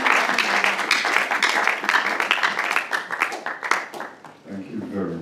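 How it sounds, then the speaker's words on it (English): An audience at a Compassion 20th-anniversary event claps in a dense burst of applause that swells and fades, then thins out toward the end, while a voice speaks over it. "There's been a lot of applauding"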